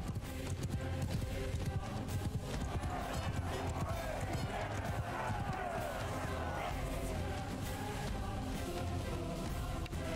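Galloping horses drum in a dense, continuous clatter from a Mount and Blade Bannerlord battle, amid steady crowd-like game noise with no clear voices.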